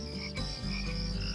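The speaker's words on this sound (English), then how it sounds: "You can hear the froggy singing." A frog croaking at night, loud and near, with sustained throaty calls filling the short moment alone.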